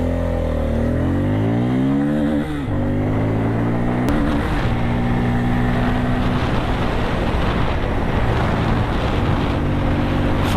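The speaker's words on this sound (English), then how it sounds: "And can you hear the grunt? This is the grunt with the newly developed Pulsar." A Bajaj Pulsar N250 motorcycle with a new 250cc engine revs up with rising pitch, then pulls away while riding, its loud engine drone shifting through gears over steady wind noise.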